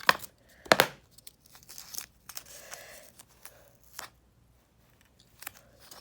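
Close, quiet scissor snips and crinkly tape tearing while building a cardboard dragon base come in short scattered bursts with pauses between.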